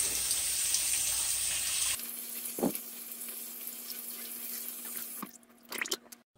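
Cold tap water gushes steadily into a colander of shrimp for about two seconds, then cuts off, leaving a few close drips, small clinks and a splashy rustle as the rinsed shrimp settle.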